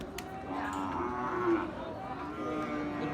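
A bull moos in a long, drawn-out low call over steady cattle-market background noise.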